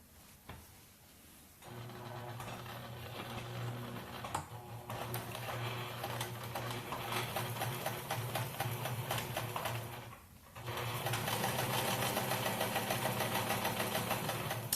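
Elastic is stitched onto a cloth face mask on a sewing machine, a steady close whirring hum of rapid needle strokes that runs almost continuously, with one brief pause before resuming louder.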